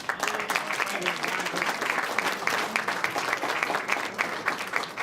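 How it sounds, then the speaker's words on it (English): A crowd at a solidarity dinner claps steadily and enthusiastically, sustained applause with a few voices mixed in, holding at an even level throughout. "another round of applause for her"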